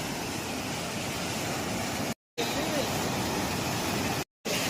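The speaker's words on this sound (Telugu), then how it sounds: "ఫైనల్గా అయితే మేమైతే వాటర్ ఫాల్కి రీచ్ అయ్యా" Close to Devarapalli waterfall in Vizag, a constant hissing roar of cascading water runs throughout, interrupted by two short cuts to silence.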